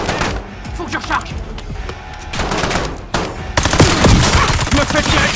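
Rapid bursts of machine gun fire in a chaotic war action battle scene, dense and loud, layered with explosions and voices shouting over the gunfire.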